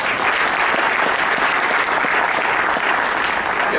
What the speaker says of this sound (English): Let's give it up for Mary Ann one more time